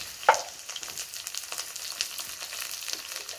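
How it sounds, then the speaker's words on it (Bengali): Cauliflower and potatoes frying in oil: a soft, steady crackling sizzle with light irregular pops, opening with one brief louder clink. "ফুলকপি আলু ভেজে নেব"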